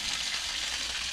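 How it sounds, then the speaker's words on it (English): Fried rice sizzles quietly in a frying pan over low heat, a soft continuous crackle and hiss with no talk over it. "I'm on low and look how it's sizzling"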